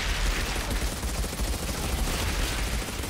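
Rapid gunfire from lava rounds in the video game Outriders, a dense, continuous burst of loud shots and impacts layered over a steady rumble of game noise, with no talking.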